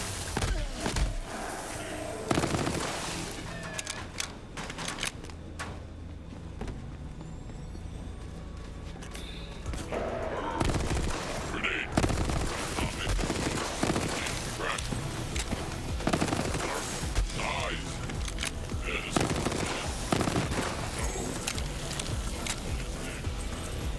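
A gun fires in Borderlands, sending out rapid automatic bursts and scattered shots over a busy, noisy game soundscape, with a little talk mixed in.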